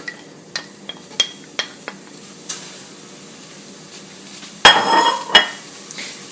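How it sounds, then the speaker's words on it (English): Butter and celery stirred in a pot on a stovetop: a string of light metallic clinks and taps from the utensil against the pot, close and fairly quiet, then a louder scraping clatter near the end. "And now you want to stir it."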